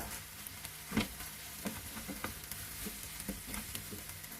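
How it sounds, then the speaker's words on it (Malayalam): Soft tomatoes are mashed in a frying pan while a Kerala-style prawn roast cooks, giving a quiet steady sizzle broken by a series of soft irregular taps and scrapes. "തക്കാളി സോഫ്റ്റ് ആയിട്ടുണ്ട് നമുക്കൊന്ന് ഉടച്ചു കൊടുക്കാം"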